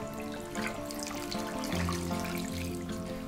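Water poured into a cooking pot holding lemongrass, ginger and garlic, a continuous trickling splash close by under a steady tonal kitchen hum, with no talk.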